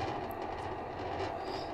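A tram ride in the video game Human Fall Flat: a steady rumbling rattle of rolling rail travel runs unbroken at an even level for the whole short stretch, with no voices over it.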